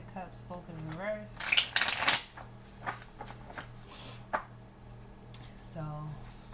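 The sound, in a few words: cutting a deck of tarot cards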